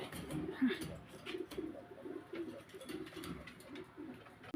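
Pigeons in breeding mood coo steadily in a low, throaty rhythm, several birds overlapping close by, with faint background chatter and rustle.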